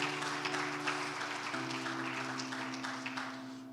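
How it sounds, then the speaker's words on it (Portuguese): A church congregation claps for Jesus during a sermon, a faint, distant spread of applause under sustained organ or keyboard chords that shift midway. "aplauda Jesus"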